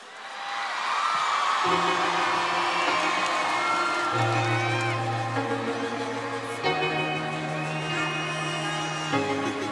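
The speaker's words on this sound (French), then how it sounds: "je veux un tonnerre d'applaudissements pour la magnifique Angoun" A concert audience cheers and whoops for singer Anggun at an M6 Music live show, a broad roar of crowd noise that swells quickly while sustained instrumental music notes begin underneath.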